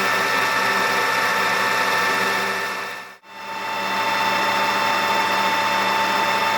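A steam wagon engine runs fast at 620 RPM, giving a loud, steady mechanical whir with a dense rattling texture that briefly drops out near the middle before resuming; no one speaks.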